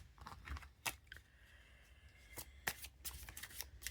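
Tarot cards being shuffled by hand, a close run of crisp riffling and flicking bursts with brief pauses between them, quiet and without speech.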